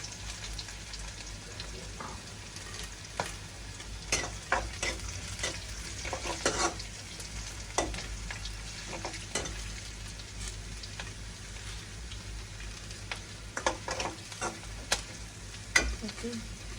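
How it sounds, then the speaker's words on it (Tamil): Onions softening in a hot pan with a low steady sizzle, broken by scattered clinks and scrapes of a spoon stirring through them, close and moderately quiet with no talking. "இதையும் வெங்காயம் பார்த்தீங்கன்னா வதங்கி பண்ணுறது கொஞ்சம் வதங்கட்டும்"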